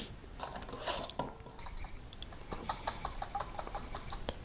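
A jar of basil-infused oil being closed, its lid giving a few small, close clicks and taps with a light scrape over a quiet room.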